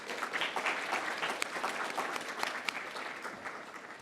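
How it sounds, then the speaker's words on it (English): Audience applause honours sponsors at a science week lecture event, a dense, steady round of clapping with sharp individual claps standing out, moderately loud and continuous for the whole stretch. "Please join me in a round of applause for our sponsors."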